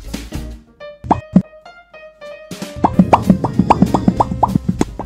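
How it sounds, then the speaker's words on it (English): The Popcat meme makes a run of sharp, bright mouth-pop plops, a few spaced ones first and then a quick rhythmic string of loud pops, with no talking. "Let it pop."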